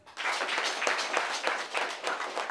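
Applause rings out at a Haitian Vodou Kanzo and baptism ceremony, a steady wash of many hands clapping together. It rises and swells in waves, loud and close, with no voices over it.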